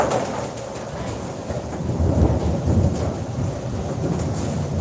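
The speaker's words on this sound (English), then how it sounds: "Definitely raining now." Steady rain pours down with a low, continuous rumble underneath, a dense wash of noise that swells slightly midway and carries on without a break.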